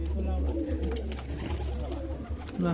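Giribaz pigeons cooing at a home pigeon sale, soft repeated coos over a steady low hum, with voices murmuring faintly in the background.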